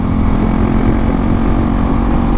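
A hyper naked sport motorcycle engine drones loud and close, a steady low rumble with a continuous tonal hum and no talk, heard during a dual sport commute in South Louisiana.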